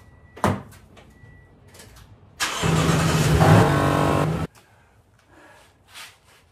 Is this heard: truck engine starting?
yes